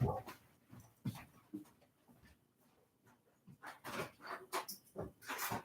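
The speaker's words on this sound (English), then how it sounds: "my dog going off" A female dog barks and whimpers indoors, with a burst of sharp barks at the start, then quieter whines, and a louder run of rapid yelps and barks near the end.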